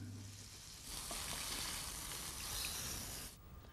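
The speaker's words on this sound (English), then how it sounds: "I fry it very briefly in a frying pan in some very hot sesame oil." Seasoned venison steak sizzles in a frying pan of very hot sesame oil, a loud steady frying hiss that swells partway through and cuts off near the end.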